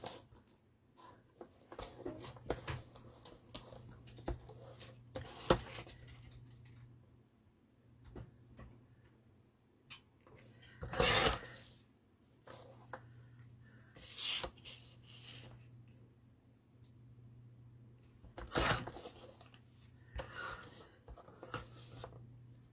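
Paper being cut by hand with scissors, a faint series of close snips and rustles at an irregular pace, with a low background hum.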